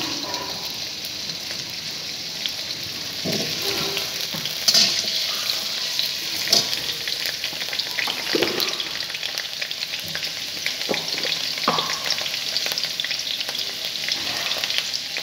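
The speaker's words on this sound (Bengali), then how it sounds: "তেলটা দেওয়ার পরে এবার আলুগুলো ভেজে নিচ্ছি।" Potatoes frying in hot oil give a continuous bright crackling sizzle, with occasional stirring knocks and clatters, close up and without speech.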